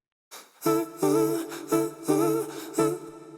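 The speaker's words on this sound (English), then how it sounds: "So this is a choir part in the instrumental thing." Raw choir vocal part with a vocal chain applied, sung as five sustained chord stabs with rich harmonics, each swelling and held briefly before a short gap, close and alone.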